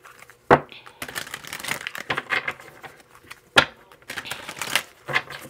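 Tarot cards slid and snapped from a deck in a quiet room, a series of close papery shuffles and sharp flicks with short pauses between them.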